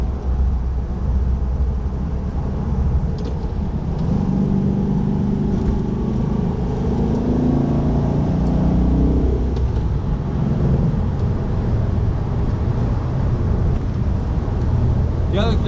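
A 1966 Volkswagen Karmann Ghia engine rumbles steadily as the car drives along, with low droning road noise throughout and no clear speech.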